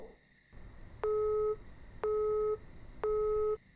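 Three evenly spaced electronic beeps of a call-ended tone, each about half a second long, clear and alone over faint background hiss.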